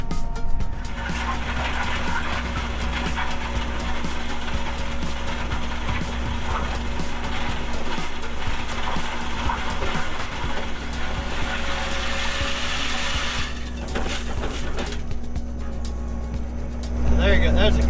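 A tractor bucket scrapes across grass and gravel, a steady, loud grinding rumble under a constant engine drone, with a voice talking over it.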